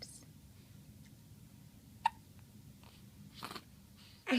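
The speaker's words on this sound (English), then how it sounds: "Oh, hiccups." A young child gives a single sharp hiccup up close amid quiet breathing and faint vocal noises, followed by a brief louder vocal sound at the end.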